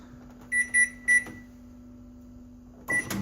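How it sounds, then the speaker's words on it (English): A microwave oven heating processed luncheon meat hums steadily with a low drone while a few short electronic beeps sound near the start and again toward the end. "cooking the devon in the microwave"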